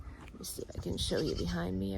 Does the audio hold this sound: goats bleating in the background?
yes